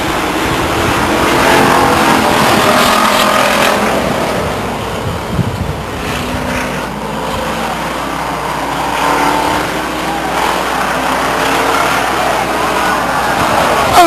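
Stock cars in a Pure Stock Series race at Stockton 99 Speedway roar past in a dense pack about four abreast off the final turn, a loud sustained engine rumble with wind buffeting the microphone.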